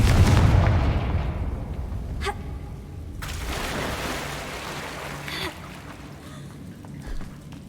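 A Confringo spell explosion in Hogwarts Legacy bursts loudly at the start and trails into a rumbling decay, followed by further sharp blasts and crackles.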